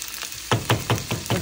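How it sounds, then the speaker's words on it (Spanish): Tomato frying in a pan for homemade albondigas, with a steady soft sizzle and five evenly spaced sharp knocks or stirring taps close by. "pongo el jitomate y lo dejo que se sofría bien, bien sofrito"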